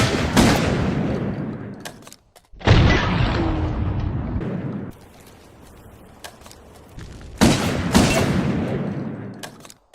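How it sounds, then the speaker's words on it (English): A Cowboy shotgun fires in the Resident Evil: Operation Raccoon City game, giving loud, close booming blasts in separate bursts with rumbling tails, and quieter reload handling between shots. "the Cowboy shotgun reminds me a lot of the hunting rifle featured in Resident Evil 0. Just 2-shot fire and you'll have to reload"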